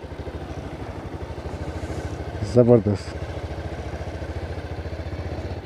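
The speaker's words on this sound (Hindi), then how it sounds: "अभी ना मैं बाइक को ध्यान से चला रहा हूँ क्योंकि यहाँ पे रास्ता गीला है, कीचड़ है" A motorcycle rides slowly along a wet, muddy road near a lakeside park, its engine thumping in a steady, close putter, while someone briefly speaks one word partway through.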